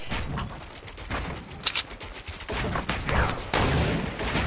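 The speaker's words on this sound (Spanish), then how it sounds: "Escuchaste los tiros, ¿verdad?" Loud, rapid bursts of gunfire with sharp cracks and overlapping shots, dense and continuous.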